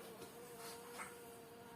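A bee buzzes near a hive, a faint, steady hum that rises slightly in the middle of a brief, quiet stretch with no speech.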